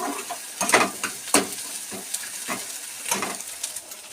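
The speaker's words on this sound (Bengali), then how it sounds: "আমি ডিমটাকে এইভাবে খুন্তি দিয়ে কিন্তু ভেঙে টুকরো টুকরো করে নিচ্ছি" An egg fries in a pan while a spatula breaks it into pieces, making a soft sizzle broken by several sharp scraping taps at uneven intervals, moderately close, with no talking.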